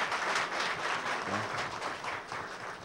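Artisans applauding at a public debate in a hall, a steady, moderately distant wash of clapping holding for the whole stretch.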